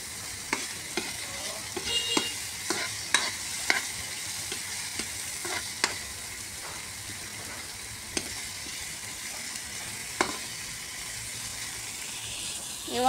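Tomatoes fry in a pan for monggo with a steady sizzle, while a utensil scrapes and knocks the pan in irregular stirring clicks and taps at moderate loudness.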